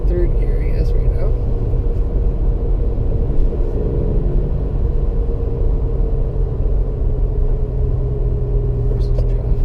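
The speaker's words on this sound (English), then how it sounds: "as we're merging up to highway speeds, just actually in third gear, I guess, right now" A 2017 Toyota Tacoma Double Cab TRD Sport pickup with a manual transmission accelerates in third gear while merging onto a highway, its engine and road rumble loud, low and steady throughout.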